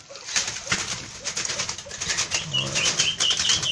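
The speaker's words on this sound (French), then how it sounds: "ici j'ai un couple de pigeons pans, j'ai racheté des pigeons pans" Fantail pigeons in a breeding loft give low, throaty coos, with bursts of wing flapping nearby. The birds sound close and moderately loud, with no one talking.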